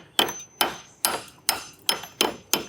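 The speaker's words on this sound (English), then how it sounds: "I could take my hammer" A hammer bangs a nut flush on a wooden deck post during demolition: seven sharp, evenly spaced metallic strikes, close and fairly loud, each ringing briefly, with no talking.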